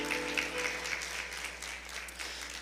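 A church congregation applauds during a Spanish-language sermon, a soft, distant patter of clapping over a low steady hum.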